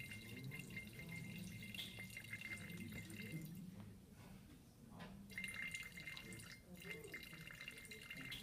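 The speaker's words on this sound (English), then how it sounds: "Notice this small, thin stream of water." A small thin stream of water runs steadily from a tap into a sink, a soft continuous trickle heard faintly under talking voices throughout.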